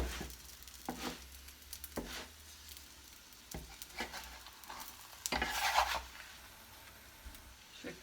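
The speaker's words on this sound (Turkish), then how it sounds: "Sıcak tavamızda pişirmeye başlıyoruz hamurumuzu." Katmer dough cooking in a hot pan, quiet intermittent sizzling and scraping bursts as the flatbread is turned and pressed, with faint sounds between.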